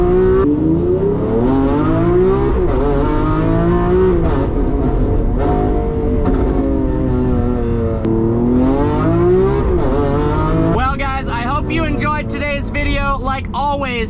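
A straight-piped Lamborghini Aventador Ultimae engine with an 8,700 rpm redline revs hard from inside the car, a loud, continuous snarling roar whose pitch climbs and drops through repeated pulls toward redline.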